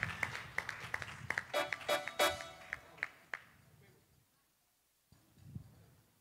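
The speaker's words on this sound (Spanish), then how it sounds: "Fuerte el aplauso para estos hermanos" Church congregation at a Sunday anniversary service clapping in scattered, uneven bursts that thin out and fade to near silence, followed by a brief soft thump.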